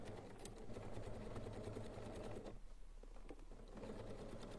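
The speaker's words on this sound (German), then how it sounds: "es näht sich nicht so richtig gut los, lege ich ein Stück Gurtband hinten unter den Nähfuß" A sewing machine runs steadily, stitching fabric for a large tote bag with a strip of webbing tucked under the presser foot, its fast even whir pausing briefly before resuming, faint and alone.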